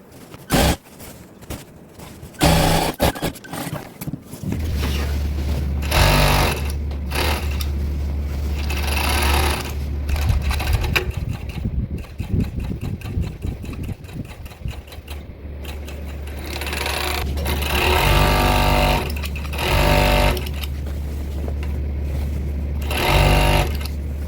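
A sewing machine stitches two sides of an Ankara and aso oke garment together in several long bursts of rapid, rattling mechanical running, separated by short pauses and small handling clicks.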